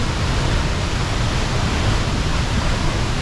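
The Mamihara waterfall in Japan sends up a loud, steady, unbroken roar of falling water, close by and with nothing else audible over it.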